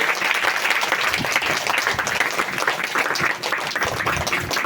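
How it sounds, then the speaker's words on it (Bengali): A church congregation claps loudly for the Lord during a pastor's sermon, a thick, continuous burst of applause with many overlapping hands, close and full for the whole stretch, with a few voices mixed in. "সবাই একটা জোরে হাততালি দিন প্রভুর জন্য"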